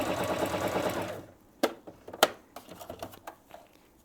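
A Viking Onyx 25 sewing machine runs a narrow zigzag stitch at a steady whirring rhythm for about a second, then stops, followed by several sharp clicks and taps from the machine.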